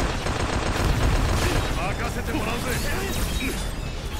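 Fire magic spell cast during combat in the video game Final Fantasy XV, a loud sustained crackling, roaring blast with sharp bursts throughout, heard alongside game effects.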